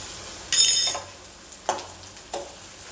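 Fresh ginger garlic paste sizzling in a pan, with a loud burst of frying hiss followed by two shorter scrapes and sizzles as it is stirred, close up and without voices.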